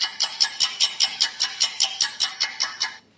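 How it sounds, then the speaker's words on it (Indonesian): A clock's mechanism makes a regular series of about fourteen crisp clunks, evenly spaced, up close and on its own, ending abruptly. "Itu suara jam, suara kluk gitu"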